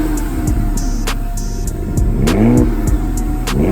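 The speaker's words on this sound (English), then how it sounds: "Hey, let's see the start right here. Ooh, we got the stock F-Sport. We got the stock M exhaust." A Lexus IS F-Sport with its stock exhaust starts up and revs in repeated loud, close bursts, the engine note climbing and falling with no talking over it.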